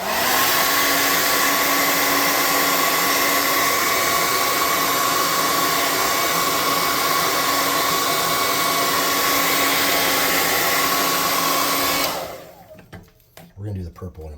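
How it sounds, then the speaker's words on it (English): A hot air blower runs steadily and loudly while drying a freshly painted resin turtlefolk miniature, its even whooshing roar holding for about twelve seconds before cutting off abruptly, leaving quiet handling sounds. "Now we're going to dry them off really good with hot air."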